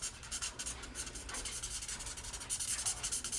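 A colored pencil rubs in quick back-and-forth strokes across a paper card while shading, a soft close scratchy texture in steady rhythmic bursts.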